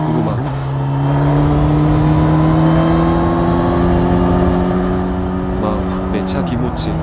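Engine of a second-generation Suzuki GSX-S1000 motorcycle with the legendary K5 inline-four, ridden in B mode, holds a steady loud drone with a slight rise in pitch, fading near the end as a few sharp noises break through.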